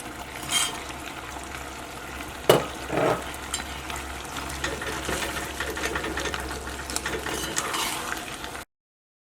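Fried beef stirred into a thick simmering chilli sauce in a pan gives a steady bubbling sizzle, broken by a few sharp scrapes and clanks of the spoon against the pan.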